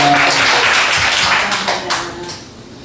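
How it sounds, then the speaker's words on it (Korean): A church congregation at a Wednesday worship service claps together, a steady dense round of applause that tapers off toward the end. "박수 한번 쳐드리겠습니다."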